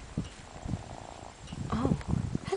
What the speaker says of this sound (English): I hear a big purr.